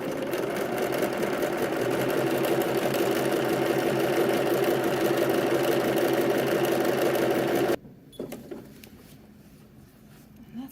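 Sewing machine stitching satin fabric for a bias-cut slip, a fast, steady mechanical whir running for several seconds before stopping abruptly, followed by quiet handling noises.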